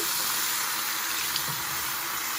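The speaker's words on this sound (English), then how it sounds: "Add a little bit of water." Water running from a tap onto a Scrubzz bathing wipe, a steady close hiss of flowing water lasting a couple of seconds with no talk.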